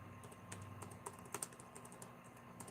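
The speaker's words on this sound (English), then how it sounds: "Typing one-handed." One-handed typing on a computer keyboard: light, irregular clicks and taps scattered at close range over a faint steady background hum, with no talking.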